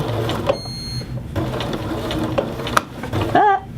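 A sewing machine runs in short uneven bursts while stitching the welt seam of a men's shirt, with a sharp click as the needle strikes a pin, close and fairly loud.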